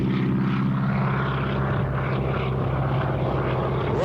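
Former military trainer airplane with a 450 hp Pratt & Whitney engine at a 1985 airshow: a loud, continuous propeller-engine roar holds steady and close throughout, with a low throbbing drone and no voices.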